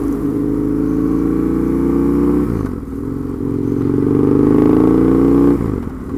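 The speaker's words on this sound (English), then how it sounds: "I've only given it a quarter throttle yet, so we have to see how much power it gives." A Husqvarna Nuda 900R motorcycle engine runs at partial, roughly quarter throttle on a test ride, a loud, close, steady drone whose revs climb, dip briefly, then rise again.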